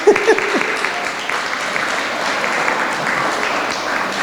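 An audience at a K-8 school presentation applauds students on stage, steady dense clapping that stays loud and close throughout.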